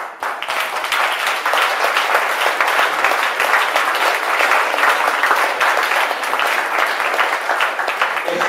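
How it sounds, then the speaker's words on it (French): An indoor audience at an event applauds, with dense, sustained clapping from many people that starts abruptly and stays loud and even for several seconds. "Et je dois de vous applaudir."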